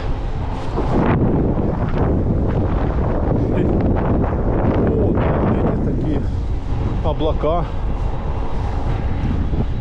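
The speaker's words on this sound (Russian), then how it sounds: "Ну тут ветер сейчас, да." Strong wind outdoors near Karadag in Crimea rumbles and buffets the microphone nonstop in loud gusts, while someone talks over it.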